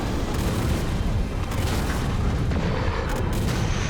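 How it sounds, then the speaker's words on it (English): Mech ammunition explodes in Mechwarrior 5: Mercenaries, a dense continuous rumbling boom with crackling bursts throughout, loud and close. "The ammo erupted."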